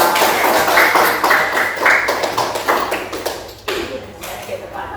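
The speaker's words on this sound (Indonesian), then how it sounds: "Tepuk tangan untuk kelompok 5." A classroom of students applauds group 5 after their presentation, a dense patter of many hands clapping together at close range that fades briefly near the end, with voices mixed in.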